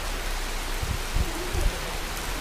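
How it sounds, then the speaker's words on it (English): Heavy rain pours steadily outdoors at Mount Huangshan, a dense, continuous hiss with a few low rumbling gusts mixed in, loud and close, and no voices. "This is actually the first big rain that my bike has been in."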